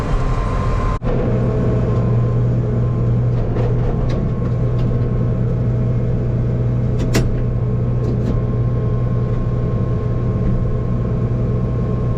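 A car idles and rumbles steadily close by on a farm after soybean planting, with a brief bump near the start and light clatter partway through, no voices.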